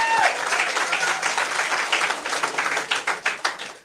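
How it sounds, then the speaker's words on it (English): Applause from the audience at a ribbon-cutting ceremony; a crowd claps steadily, thinning toward the end into a few separate, distinct claps, with a brief voice at the start. "I want you to give her a special round of applause"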